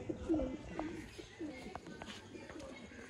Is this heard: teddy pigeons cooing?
yes